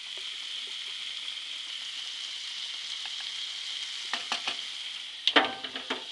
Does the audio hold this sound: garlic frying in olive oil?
yes